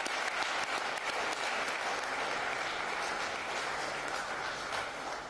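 Sustained audience applause at a university tribute ceremony honouring Valentin-Yves Mudimbe, a dense, steady clapping that fills the hall without pause for about five seconds, with no voices rising above it.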